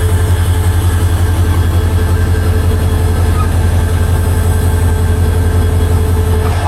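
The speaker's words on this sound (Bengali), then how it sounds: "শান্টিং করে লোকোমোটিভ এই যে আসছে," A diesel locomotive shunting at Nazirhat, the terminus station on the line, gives off a steady, loud, close engine drone with a deep pulsing rumble that holds unchanged throughout.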